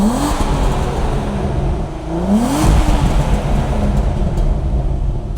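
Engine of a rare Volkswagen R32 or R36 on a test drive, a loud close drone that climbs through a couple of rising revs between gear changes, alone with no talk.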